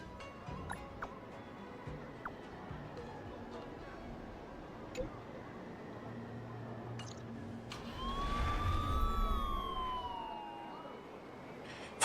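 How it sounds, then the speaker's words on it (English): An ambulance siren passes outside during a Honkai Star Rail gaming session, a faint wailing sweep rising and falling for a few seconds behind steady background noise. "Fucking ambulance."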